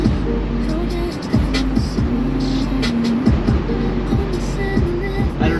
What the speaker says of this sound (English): the resonance of the cabin noise when you get to this speed